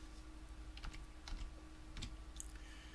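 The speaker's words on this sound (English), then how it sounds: "type the letter CMD into the search box" A few keys are pressed on a computer keyboard to type a short command, soft scattered clicks over a low steady hum, faint and close.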